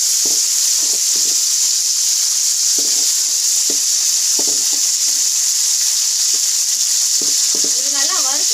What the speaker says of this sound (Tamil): இது நல்லா வறுத்துச்சு எப்படி நம்மளுக்கு கண்டுபிடிக்கலாம்?